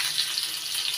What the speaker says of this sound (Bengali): এবার আলুগুলো একটু ভেজে নিচ্ছি।